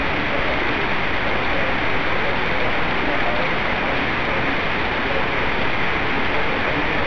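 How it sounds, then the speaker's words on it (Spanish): Dense, even roar of heavy rain pouring down without pause during a winter storm in Camoapa, Nicaragua, a constant broadband hiss from start to finish. "la lluvia está cayendo más fuerte"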